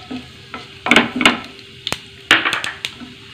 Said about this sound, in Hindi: जीरा को हल्का सा फ्राई कर देते हैं